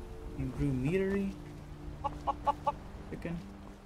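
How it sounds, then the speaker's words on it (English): Chickens clucking in the video game Skyrim, heard as a short series of four evenly spaced clucks after a brief louder rise, moderately near, with faint game ambience around them. "Chicken."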